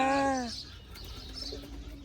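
Birds in a mixed enclosure, one clear falling call right at the start followed by faint, scattered chirps over a low background hum.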